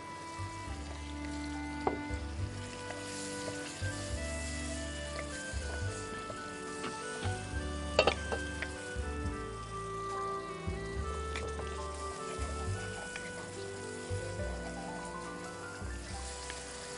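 Masala with salt and onion paste fries in a pan with a steady, close sizzle that runs throughout, joined by a few faint clinks and a musical background.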